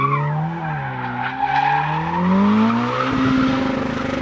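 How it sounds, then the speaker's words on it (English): A car spins donuts, its tires squealing and skidding in a loud, continuous wail that shifts in pitch as the engine revs close by. "you want to do donuts?"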